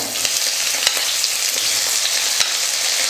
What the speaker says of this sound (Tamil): இப்போ வெங்காயம் வந்து பெரிய வெங்காயம் 2 வெங்காயம் நீல வாக்கில் கட் பண்ணி எடுத்துக்கிறேன், அதை சேர்த்துக்கிறேன்.